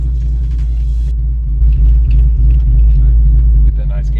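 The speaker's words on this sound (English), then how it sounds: "Get that nice cam chop." A Foxbody Mustang with a Trick Flow Stage 1 cam idles close by, a loud, steady low rumble with a lumpy, uneven chop and a brief blip partway through.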